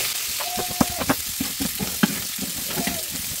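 Chicken feet frying and being stirred in a pan, with steady sizzling and repeated scraping and clattering of a utensil against the pan throughout, close and fairly quiet.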